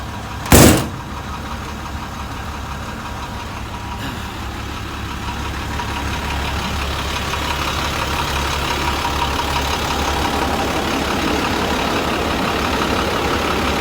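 A school bus engine idles steadily with a constant low rumble throughout, heard from the back of the bus, preceded by one brief knock near the start.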